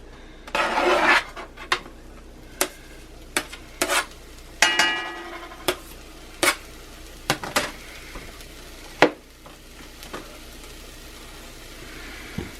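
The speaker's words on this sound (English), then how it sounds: "a little olive oil to cook the jalapeno in" Chopped jalapenos cooking in olive oil in a cast iron pan, a faint steady sizzle under sharp scattered clinks and scrapes of a utensil stirring against the iron.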